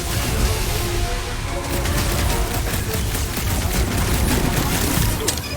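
Gunfire in a Marvel superhero video game during a fight with Nova Corps: dense, continuous rattling fire and booms that form a loud, steady wall of noise.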